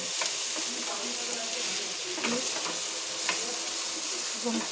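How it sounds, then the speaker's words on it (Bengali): Tomatoes sautéing with cumin, coriander, turmeric and salt in a pan for a dried fish dish, giving a soft continuous sizzle with a few light stirring scrapes, close but fairly quiet. "এই টমেটোটাকেও আমি একটু কষাবো।"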